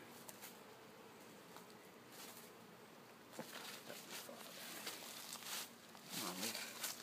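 Steady insect buzzing from honeybees at a hive, several bees droning close by, with a faint rustle and a louder swell near the end.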